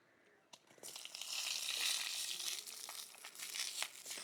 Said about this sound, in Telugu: గుత్తొంకాయల్లో కోసుకున్న దొండకాయలు కూడా వేసేసుకొని వేపుకుందామండి